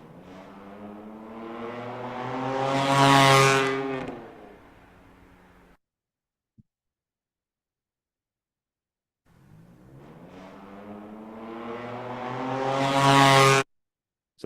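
A loud black Dodge Charger roars past a roadside noise camera, its engine swelling to a peak and cutting off, then a second loud pass builds again after a few seconds of silence.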